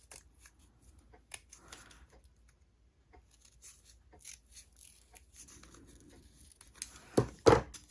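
Scissors cut through a paper template for a secret compartment box, giving scattered soft snips and rustles that end in a couple of louder, close cuts.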